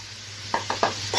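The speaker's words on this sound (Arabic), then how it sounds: "نقلب الكبده بقى باللحمه كده يا حبايبي مع بعض اهو" Liver and meat stirred together in a frying pan, a soft sizzle under several quick spatula scrapes and knocks, close and brief.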